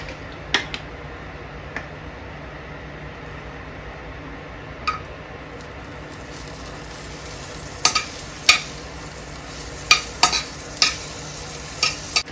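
Butter sizzling in a hot pan on a home stovetop, a faint steady hiss with occasional sharp clicks and scraping taps, mostly quiet and without talk.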